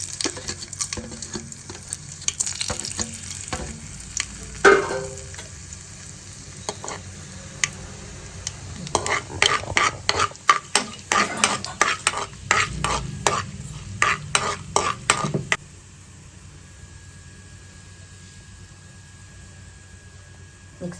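Urad dal and chana dal fry in hot oil for a Bellary-style chitranna tempering, with a steady sizzle, bursts of crackling pops in the middle, and stirring scrapes that fade near the end.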